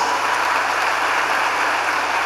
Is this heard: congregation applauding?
yes